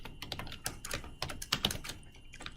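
Typing on a computer keyboard while writing code, rapid uneven key clicks close to the microphone, continuous with no talk.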